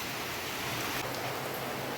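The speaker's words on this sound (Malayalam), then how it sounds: "പുറത്താണെങ്കിൽ നല്ല അടിപൊളി മഴയാണ് കേട്ടോ" Steady heavy rain falling outdoors makes an even, dense hiss with no breaks, heard from indoors near a kitchen, continuous and moderately loud throughout.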